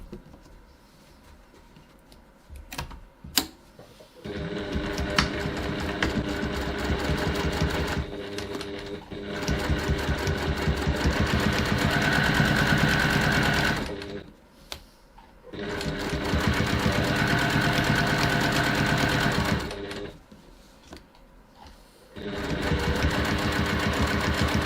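A sewing machine stitches along the side of a bag body in several long, steady runs, each a loud continuous whir broken by short pauses.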